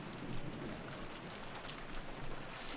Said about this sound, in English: If there was anything audible besides that, it was the sound of the rain